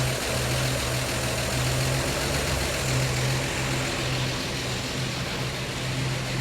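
A cold 1952 Chevy Styleline Deluxe engine idling close by, a steady loud rumble with a slightly pulsing, uneven beat throughout and no voices.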